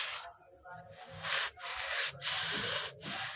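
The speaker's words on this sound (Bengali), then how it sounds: "অস্তরটা একটু মাথায় ঘষে নিলে ধার হয়" Scissor blade rubbed against a person's head to sharpen it, a steady rasping scrape in a few strokes broken by short pauses, close and fairly quiet.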